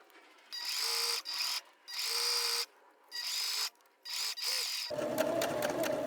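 A sewing machine stitches along the edge of a reversible napkin in short bursts of rapid, close whirring, with quiet pauses between runs, then a lower hum at the end.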